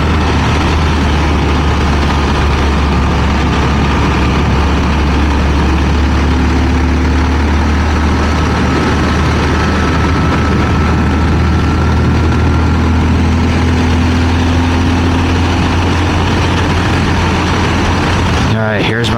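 A Yamaha SR400 motorcycle's engine drones loud and continuous while riding on a road, with a deep low rumble and wind roar throughout, and a rider talking over it.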